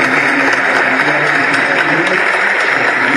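An audience at a political speech by former Mexican president Zedillo applauding, a dense, steady wash of clapping that stays loud and even throughout.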